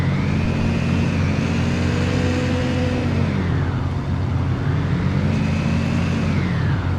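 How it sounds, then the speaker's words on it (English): A video game truck engine idles and revs in a steady mechanical drone, its pitch rising and falling in two slow swells over a constant low hum, with no voices. "I'm hearing a truck, unless there's one parked around somewhere that's running."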